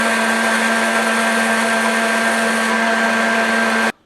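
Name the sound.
blender blending blueberry and apple chilli sauce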